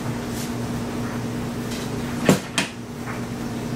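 A cutting board is taken out of a kitchen cupboard, making a quick pair of close knocks over steady background hum.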